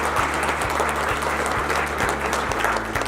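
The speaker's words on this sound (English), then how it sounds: "So please give them a round of applause." Audience at a mayor's breakfast event applauding steadily, a dense wash of many hands clapping that holds even and loud for the whole stretch, with no talk over it.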